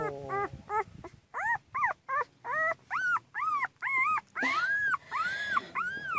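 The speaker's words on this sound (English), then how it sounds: "I have 6 puppies." Newborn puppies, still blind with eyes closed, whimper and yip in a steady series of short, high, rising-and-falling cries, close and fairly loud, with brief gaps between each squeal and no talking.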